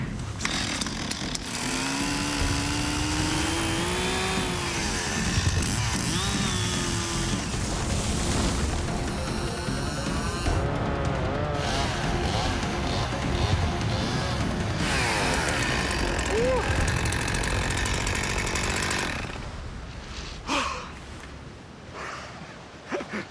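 A chainsaw revs and whines through a tree trunk in snow at -40°, pitch rising and falling with each cut, then drops off near the end.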